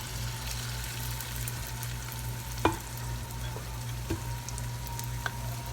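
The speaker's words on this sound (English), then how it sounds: "So we're going to put just some mounds of the fritters in here." Fritter mounds fry in hot olive oil in a large pan, a steady soft sizzle broken by a few sharp taps and clinks of a utensil against the pan.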